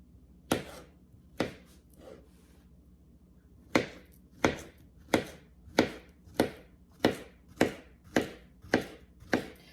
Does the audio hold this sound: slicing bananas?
yes